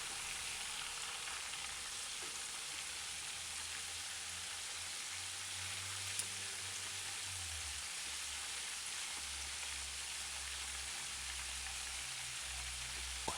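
A large chicken breast fries in hot oil with a dense, even crackling sizzle that holds steady at moderate loudness, no voices, just a faint low hum underneath.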